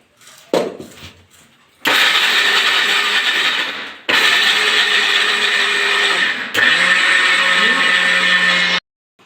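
A kitchen mixer grinder powders roasted gram flour for laddu in three loud, whirring bursts, each starting and stopping abruptly, after some brief clattering handling at the start.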